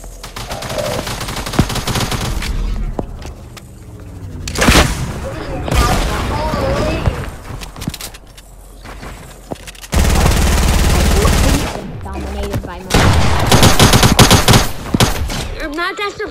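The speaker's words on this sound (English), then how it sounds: "Oh, I have a gold pack SMG." Automatic SMG fire from a gold pack weapon in a Fortnite Creative match, bursts of rapid gunfire mixed with booms and other shots, loud and close, with players talking over it.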